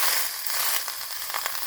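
Marinated pig trotters frying in a hot Icook Wok steam pot, a steady hissing sizzle with faint clicks and scrapes, close and continuous for under two seconds.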